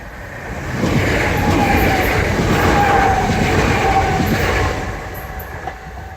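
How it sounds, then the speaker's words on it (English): A single Class 387 train runs straight through without stopping, rising into a steady close rumble of wheels and carriages that lasts a few seconds before easing away. "Just a single train."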